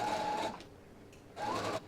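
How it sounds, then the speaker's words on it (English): A sewing machine stitches down the sleeve facing of a McCall's 7654 holiday dress in two short bursts of whirring, separated by a brief quiet pause, close and moderate in level, with no talking. "take it to your machine and sew it down"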